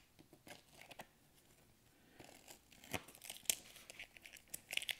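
Reflective vinyl decal material being torn apart by hand, a series of quiet irregular ripping and crinkling bursts that grow busier toward the end, close and faint, without talking.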